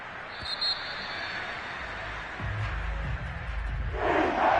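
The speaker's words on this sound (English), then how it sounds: "And the home crowd applauding." A home stadium crowd in a Madden football video game roars and applauds in a steady wash of cheering that swells toward the end.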